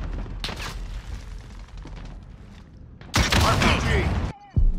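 Bursts of gunfire and booms in Call of Duty: Modern Warfare, a rapid fusillade with a loud stretch of heavy firing near the end, under game background noise.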